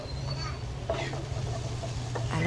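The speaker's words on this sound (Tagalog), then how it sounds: "Haluin natin ulit." Pork humba is stirred in a pan, with soft scraping and faint sizzling over a steady low hum, and a few brief utensil clatters.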